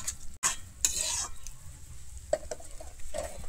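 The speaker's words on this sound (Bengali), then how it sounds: "গরম মশলাটা দিয়ে আমি আবারও খুব ভালোভাবে এখানে মিশিয়ে নেব।" Egg korma sizzling quietly in a pan as garam masala is stirred in, with faint frying hiss and scattered clinks and scrapes of a spoon against the pan.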